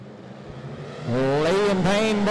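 Modified race cars run a heat race at Ponderosa Speedway, engines droning steadily and then surging into loud, rising revs as the pack accelerates close by.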